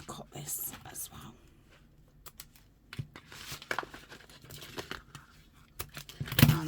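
A paper gift bag being cut and handled, scattered snips, crinkles and tearing sounds, close and moderately quiet, with soft whispered talk alongside.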